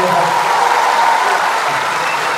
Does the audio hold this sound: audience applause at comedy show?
yes